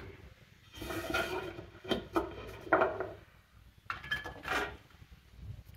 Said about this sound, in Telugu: జాంకాయ ముక్కల్ని కడాయిలో వేస్తున్నాను.